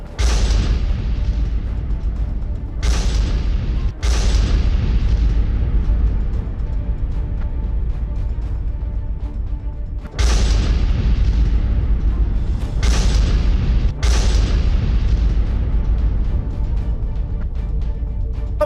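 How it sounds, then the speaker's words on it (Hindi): Thermobaric bomb blasts in Zaporizhzhia, several loud booming explosions with deep rumbling tails, each sudden onset fading into continuous heavy roar. "ज़ैपोरिज़िया में थर्मोबैरिक बॉम्ब से अटैक किया गया।"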